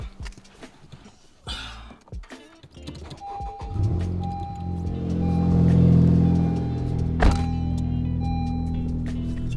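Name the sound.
car engine warming up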